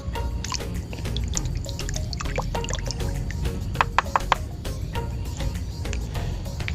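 Liquid is poured into a container, giving a continuous trickle broken by bright drips and splashes, close and steady over a low background rumble.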